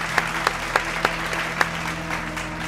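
A small group claps briefly, a few distinct claps standing out over a low background hum.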